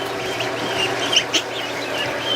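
Young geese, including a small Chinese gosling, call among ducklings in a pen, with faint high peeping calls and a couple of sharper chirps over a steady soft background.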